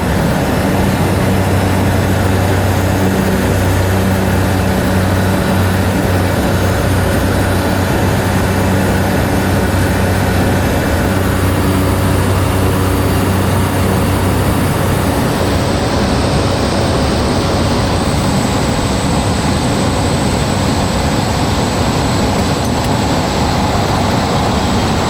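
A small propeller plane's engine drones loud and steady, a dense continuous roar that fills the whole stretch and shifts in tone partway through, with no voices.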